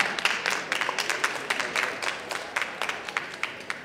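An audience at a saberfighting show applauds, a dense steady burst of many hands clapping that fades slightly toward the end, with no talking over it.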